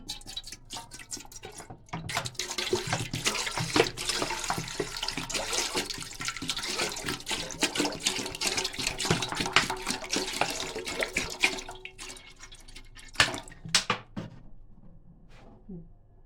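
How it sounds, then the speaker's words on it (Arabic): Water runs and splashes into a pot for sprouted fava bean soup, a steady pour for about twelve seconds, then a few clinks and drips. Close and moderately loud, with no talk over it. "بنزود المية عشان احنا بنعمل بيها الشوربة اللي هي شوربة الفول النابت"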